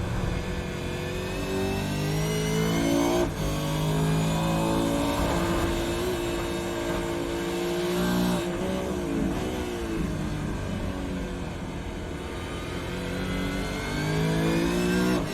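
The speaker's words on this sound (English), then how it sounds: "We're going to jump on board for some fantastic laps around here with Steve Denby." Race car engine heard onboard during laps of the Oran Park GP circuit in the iRacing sim, a Super2 Series round. It runs loud and steady throughout, rising and falling in pitch through gear changes, with no talk over it.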